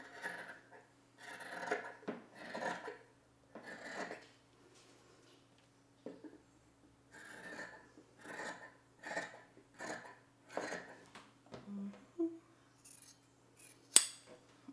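Scissors snipping through a cotton T-shirt while it is altered into a halter top, close and clear, with repeated bursts of crisp cutting strokes separated by short pauses.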